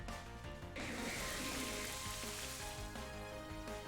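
Rain move effect in a Pokémon Scarlet battle, a continuous hissing patter of rainfall layered over steady game music, holding at an even level throughout.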